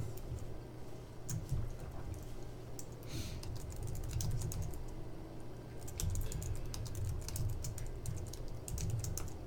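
Code is typed on a computer keyboard in quick irregular bursts of key clicks, separated by brief pauses. The typing is close and moderately quiet, with no speech.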